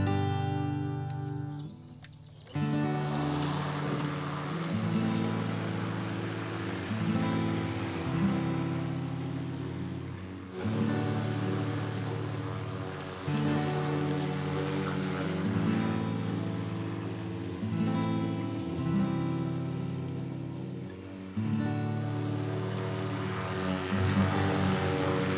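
Lawn mower giving a lawn its first light cut of the season, a loud steady engine drone that shifts pitch as it moves across the grass, dipping briefly a few times before returning.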